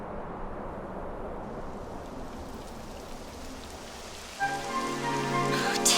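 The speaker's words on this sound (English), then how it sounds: "It would have to go and start raining, wouldn't it?" Steady hiss of rain falling on surfaces in the game Dragon Quest XI, a continuous wash throughout, with tonal game music entering near the end.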